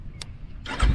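A Kawasaki Ninja 400 pulling away as the clutch is let out: a brief click, then the engine note rises sharply in the last moment, close and fairly loud.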